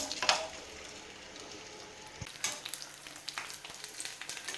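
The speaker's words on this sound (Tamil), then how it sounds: "இப்போ நம்ம பானிபூரி பொரிக்கிறதுக்காக எண்ணெய் சுட வச்சுருக்கோம். இப்போ அதில் பூரியை போட்டு எடுத்துக்கலாம்." Puris for pani puri frying in hot oil, a steady close sizzle with sharp crackling pops and bursts of spattering throughout, no talking.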